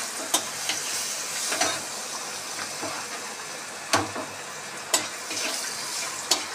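Ghugni ingredients fry with turmeric and salt, giving a steady, close sizzle with periodic sharp clicks and scrapes as they are stirred.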